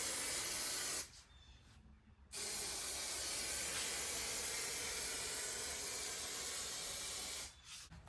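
A spray can hisses loudly and steadily while painting the cracked dash of a 1974 Trans Am, in two long bursts separated by a short pause, stopping briefly again near the end.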